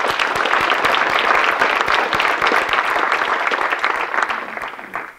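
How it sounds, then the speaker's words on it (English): Audience at a university science awards ceremony applauds two award recipients from the physics and astronomy department; sustained, dense clapping that tapers off at the end. "So we'll give them a clap anyway."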